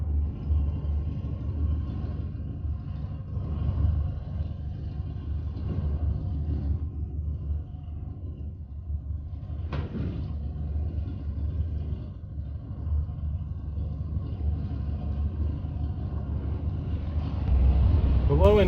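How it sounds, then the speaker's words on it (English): An old crusty Ford F100 farm truck with a five-speed rolls down the road in second gear with no throttle, a steady low engine rumble and road drone inside the cab, under occasional talking. "So we're in second gear here, and she'll just drive herself down the road in second gear, no gas pedal input at all."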